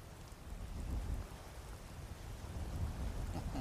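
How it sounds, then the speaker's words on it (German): Rain falls steadily in the video game Skyrim, a soft continuous patter with low rumbling underneath, faint and even throughout with no talk. "Und es regnet zum Hals rein."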